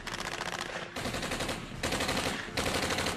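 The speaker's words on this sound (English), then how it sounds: "with hundreds of rounds being sprayed all over the area" Sustained automatic gunfire in a Tommy-gun shootout between a gangster and FBI agents, with rapid bursts of shots in three dense stretches, each separated by a brief gap.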